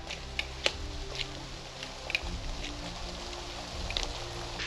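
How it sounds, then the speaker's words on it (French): Steady rain patters on a mountain hiking trail on a cloudy, muddy ascent, a dense hiss with scattered sharper drops and a faint low rumble beneath, continuous and close throughout, with no talking. "mais il pleut de plus en plus"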